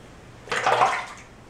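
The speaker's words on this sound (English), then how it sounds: "Just going to dip it here in the sink." A short watery swish as a Schick Injector razor is dipped and swirled in hot sink water, brief and close, with quiet room noise around it.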